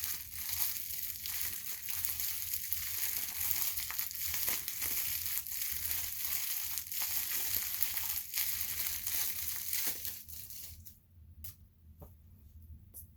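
A small pouch for fragile things is crinkled and crushed close up, a dense continuous crackling rustle that stops abruptly near the end, leaving faint scattered crinkles.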